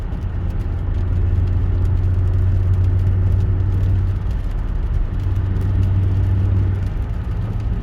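A Mercedes W212 with Pardi AMG tuning cruising on a motorway gives a steady, deep engine growl and road rumble from inside the cabin, holding loud and even with a slight dip near the middle.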